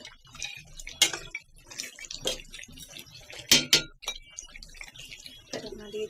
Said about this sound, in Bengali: এখন আমি আলুগুলো দিয়ে দিব মাংসের ভিতরে। আলু দিয়ে ঢাকনা দিয়ে দিব।